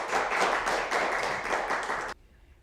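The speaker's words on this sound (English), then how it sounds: "Let's give her another round of applause." Dense, steady clapping from an audience at a school recital where a girl read her poem, close and full, lasting about two seconds before stopping abruptly into near silence.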